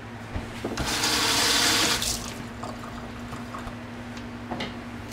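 Tap water runs into a sink as vegetables are washed during meal prep, a steady close rush of about a second, with faint clicks and a low hum around it.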